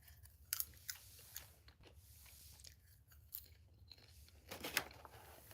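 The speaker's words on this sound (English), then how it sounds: "I am eating popcorn, Nikki." Quiet, close crunching and chewing, with scattered small crisp bites at an irregular pace over a low hum.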